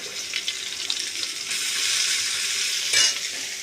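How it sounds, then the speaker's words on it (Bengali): Onions fry in a pan for a home-style fish curry, a close, steady hissing sizzle with soft stirring scrapes and one louder burst of spitting near the end, with no voices. "আমি এবার একটু পেঁয়াজ দিয়ে দিচ্ছি। পেঁয়াজটা ভেজে নিয়ে"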